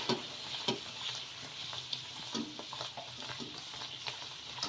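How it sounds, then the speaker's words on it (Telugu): Ridge gourd puris deep-frying in hot oil, a close continuous sizzle and bubbling with light scrapes and taps of a slotted spoon pressing and turning them, no voices. "ఇలా రెండు వైపులు కూడా ఫ్రై చేసేసుకొని తీసేసుకోవడమే"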